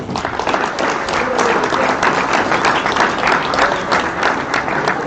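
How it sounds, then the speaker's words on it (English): A banquet crowd applauds together, loud and sustained clapping that holds at an even level throughout with a faint murmur of voices underneath. "Let's give everybody a round of applause here."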